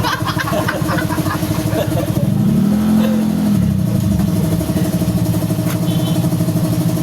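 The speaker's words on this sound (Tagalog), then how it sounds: "susunod na yung motor ni Tatang" A motorcycle engine running close by with a loud throbbing idle, rising into one rev around the middle and then settling back to a steady rumble, with faint voices in the background.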